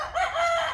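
A single short rooster crow, fairly close and clear, lasting under a second.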